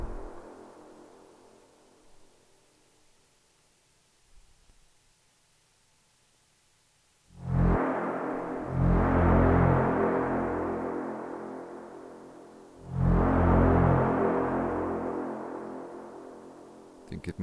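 Two heavy, distorted low synth pulses swell in, each sustaining with a long buzzing decay, separated by a quiet gap with faint tones.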